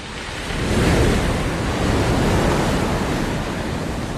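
Ocean surf breaking at the Natural Bridge, a large coastal rock arch on Aruba in the Caribbean, a loud continuous wash of waves with steady roaring noise and some wind, no voices.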